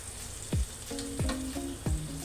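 Onion paste fries in oil in a pan with a steady soft sizzle, punctuated by three heavy thuds, with a faint tonal whine running through, close by and without speech.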